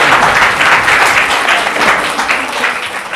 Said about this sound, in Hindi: जोरदार तालियां हो जाए भाई हम लोग